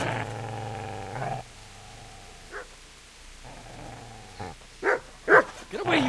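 A dog in a medieval-set video game growls low and long, then breaks into several sharp, loud barks toward the end, close by, with short quiet gaps between bursts.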